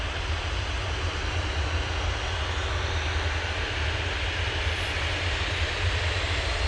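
A Ryanair airliner at Manchester Airport sends out a steady, loud engine roar with a deep rumble, constant and unbroken throughout, with no voices.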